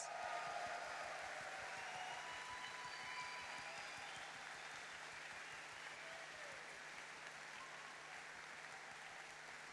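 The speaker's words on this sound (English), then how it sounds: "A big applause for Rebecca Shoykett" Faint, steady wash of audience applause at the GalaCon 2016 opening ceremonies for performer Rebecca Shoykett, heard distant and even throughout over a low electrical hum.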